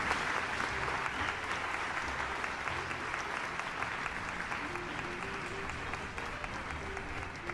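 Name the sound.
applause sound effect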